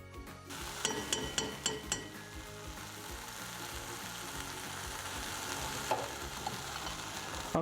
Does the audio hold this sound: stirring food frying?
yes